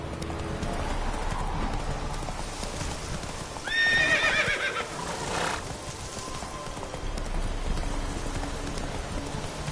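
Roach, the horse in The Witcher 3, gallops with a quick, steady clatter of hooves and gives a loud whinny midway. The hoofbeats are close and continuous, with no talk.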